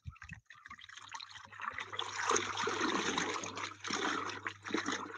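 Water stirred by hand into a deep vortex for a biodynamic preparation at an orchard, a swirling, sloshing churn that builds after a quiet start and continues at close range.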